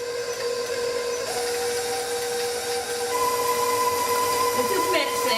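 An electric hand mixer whirs steadily through butter cookie dough, a continuous motorized drone with shifting tonal whine that grows slightly louder partway through, heard close with kitchen background.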